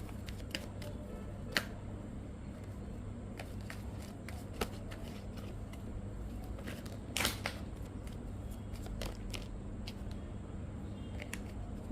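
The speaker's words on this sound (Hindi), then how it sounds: "Let me pull out more cards." Tarot cards are pulled out and handled close by, giving quiet papery slides, flicks and taps scattered over a soft steady room hum, with no talking.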